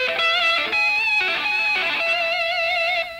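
Electric guitar octaves picked with the pick tucked between the first and second fingers, a sustained, distorted run of notes with a steady droning tone, loud and alone with no talking.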